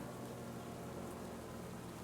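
Rain falls on a farm in spring as a steady, even hiss that stays constant throughout at a low level, with no voices present.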